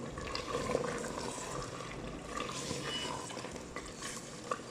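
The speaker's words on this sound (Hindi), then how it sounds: "अभी इसमें मैं डालूंगी आलू।" Potatoes are stirred into a pot of simmering mutton curry, giving steady scraping and sloshing with a soft sizzle throughout, close and moderately loud with no voices.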